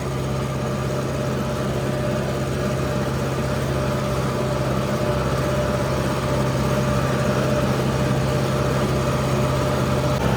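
Tractor engine running steadily while ploughing a field, a continuous loud low drone with a constant hum and no breaks, alone without talk.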